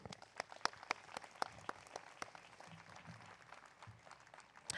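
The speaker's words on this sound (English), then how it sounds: "Let's give them a round of applause." Faint, sparse applause from an audience at a university mid-year commencement ceremony, individual claps sounding distinctly and unevenly from a distance for several seconds.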